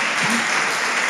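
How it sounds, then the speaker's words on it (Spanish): A burst of loud, dense applause from a Spanish-speaking church congregation fills a brief moment after a sermon, steady and crowd-wide without any voices. "Dele un fuerte aplauso al Señor."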